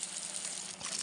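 Water flowing from a pipe onto garden plants, including a mountain pumpkin vine, in a Uttarakhand hill village: a soft, steady hiss and trickle of running water, faint and continuous with no talking.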